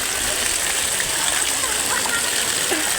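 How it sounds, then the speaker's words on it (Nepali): Cold water pours from stone spouts at a bathing place with many spouts, a continuous near splashing rush; a voice talks faintly beneath the water. "म पुरै धाराको पानी हालिदिन्छु माथि"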